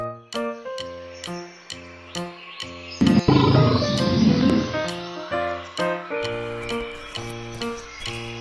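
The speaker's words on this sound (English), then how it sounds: "Tiger." A tiger roars once, a loud rough growling burst of a few seconds set against a bright, plinking children's music backing that plays throughout.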